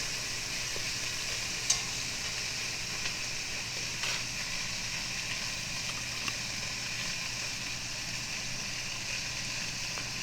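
Beef short ribs sear and brown in a hot pan, with a steady loud sizzle running throughout and a few faint clicks on top.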